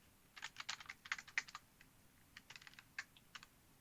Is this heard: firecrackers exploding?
no